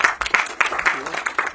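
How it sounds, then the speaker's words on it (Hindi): Applause for the team at a song launch event, a run of fairly close, uneven claps with a voice talking over them throughout. "तो एक बार जोरदार तालियां पूरी टीम की।"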